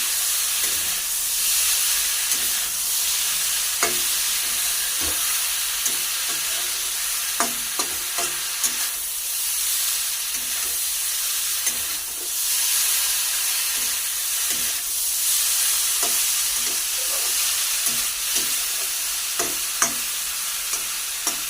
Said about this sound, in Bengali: এই মাখানোটা এবারে ঢেলে দেবো। সামান্য একটু নেড়ে নেব